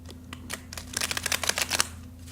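Tarot cards being shuffled during a reading, a quick flurry of crisp riffling clicks that rises to a dense burst midway, close and fairly quiet over a low steady hum, no one speaking.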